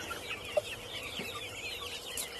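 A flock of about a hundred chickens on a small Turkish farm clucks steadily at a moderate distance, with scattered calls overlapping and one short sharp squawk standing out near the start.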